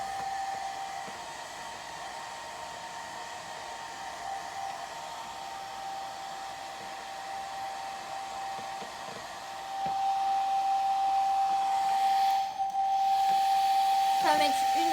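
A hair dryer blows steadily on washed hair, a loud continuous whooshing hiss with a thin whistling tone, growing louder partway through and running without any talk.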